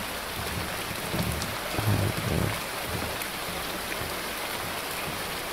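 A looping toilet flush from a zombie video game rushes on steadily with no talking, its hissing water rising briefly then settling back to an even wash.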